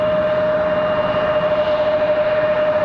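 A Delta Boeing 717 jet airliner at an airport at night gives a steady, sustained engine drone with a strong constant whine, heard alone at moderate loudness.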